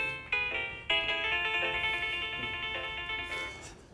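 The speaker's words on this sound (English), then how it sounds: "that's the loudest ringer that I could find on my phone" A phone ringtone set to its loudest volume plays a bright, sustained melodic tone with two sharp onsets, loud and close throughout with no voices over it.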